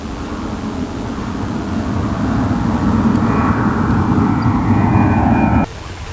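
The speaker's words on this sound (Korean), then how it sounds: "비행기가 머리 위로 씩씩 지나갑니다." An airplane passes overhead at dusk above a fishing spot, a broad roar that swells steadily over several seconds before cutting off abruptly.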